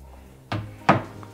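A push-to-open cabinet door in custom-built furniture with Blum hardware, two soft wooden clicks and thunks about a third of a second apart, fairly close and quiet against a faint room hum.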